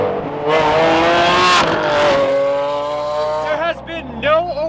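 A Lamborghini Aventador's 6.5-liter V12, fitted with a new exhaust, revs loudly at close range. The pitch sweeps upward, settles into a sustained howl, then blips in a couple of quick rises and falls near the end.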